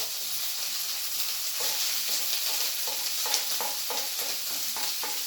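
Onions fry in a pan for a family meal, a steady close hiss of sizzling oil broken by a series of soft rhythmic scrapes and stirs, with no voices.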